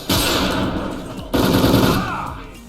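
Video game gunfire comes in two loud, rapid automatic bursts, the second starting just after the first fades, each one a dense rattling stream of shots.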